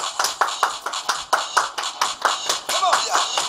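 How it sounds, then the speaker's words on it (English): People clapping their hands in time during a line dance, a run of sharp, fairly loud claps on a steady beat over background music, with a voice talking along. "Everybody clap your hands."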